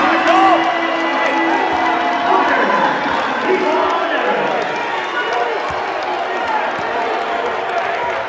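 A basketball arena crowd at a Northwest Missouri State versus Washburn regional semifinal cheers and shouts loudly throughout, with a commentator talking over the sustained roar.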